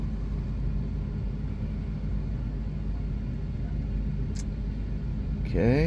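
A Dodge/Chrysler 3.6L car engine left idling during a thermostat fault check, a low, steady rumble throughout with a brief spoken word over it.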